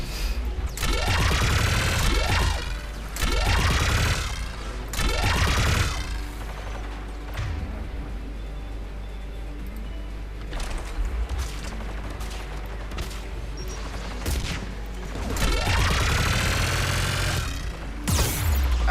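Bursts of Spitfire heavy weapon fire in Mass Effect 3, loud and sustained over several seconds each, separated by quieter stretches of battle noise and mechanical clatter, with no talking.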